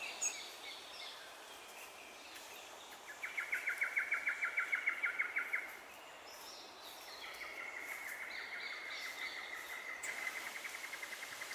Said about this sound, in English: There's a lot of bird activity here.